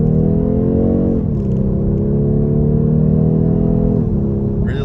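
A 2022 BMW 430i xDrive engine pulling at half throttle, a loud steady droning note rising in pitch with two brief dips where it shifts, heard from inside the car with no talk.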